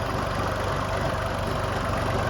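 A Kubota L2201DT compact tractor engine idles steadily throughout, a low rhythmic chugging that stays close and constant with no other sounds.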